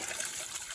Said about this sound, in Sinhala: දැන් වතුර පිරෙන්න විතරයි තියෙන්නේ.